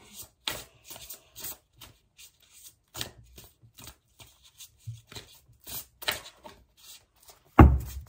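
Oracle cards being shuffled by hand, with irregular soft riffles and slaps in short bursts separated by pauses, close and quiet, ending in one louder knock.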